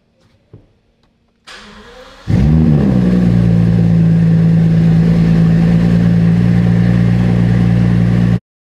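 A crashed Rolls-Royce engine cranks briefly after the ignition is switched on, then catches and settles into a loud, steady close-up idle that cuts off abruptly.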